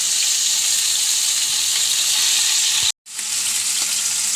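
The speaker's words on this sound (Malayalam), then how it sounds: "മീനൊക്കെ മൊരിഞ്ഞു. മറിച്ച് വെക്കാം." Fish frying in hot oil after being turned, with chillies and a couple of leaves in the pan for a Kerala fish fry: a steady, loud, dense sizzle that runs throughout, broken by one brief cut to silence near the end.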